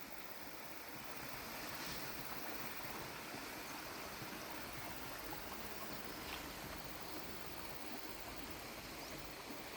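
A small stream flowing through a four-acre property with a house, heard as a faint, steady rush of running water that stays even throughout, with no voices.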